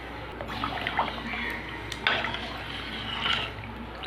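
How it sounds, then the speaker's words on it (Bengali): Lentil dal seasoned with salt and turmeric boils in a pot, giving a continuous bubbling, watery simmer with small pops throughout, close and moderately loud. "ডালটাকে আমি ভালো করে ফুটিয়ে নেব।"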